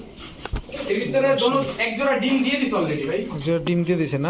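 Two pairs of Pakistani blood pigeons, red-geared and gola-kosha, coo in a pigeon shop, throaty rolling calls close by with someone talking over them.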